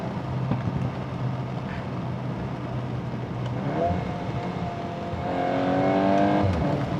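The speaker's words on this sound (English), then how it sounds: "So this Akrapovic exhaust is something that's pretty special" A Volkswagen Golf R fitted with an Akrapovic titanium exhaust drives past. A steady engine drone builds into a rising rev toward the end, heard from a moderate distance without any voices.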